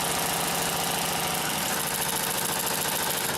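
A Consew 744R-30 industrial sewing machine runs steadily, a continuous loud mechanical whir with a fast, even needle rhythm close to the mic and no talking.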